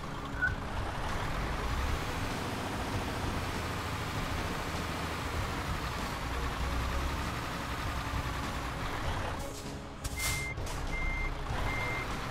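Steady electronic reversing beeps from a heavy truck backing in to park in Euro Truck Simulator 2, sounding over a continuous low engine drone, with a brief air-brake hiss near the end.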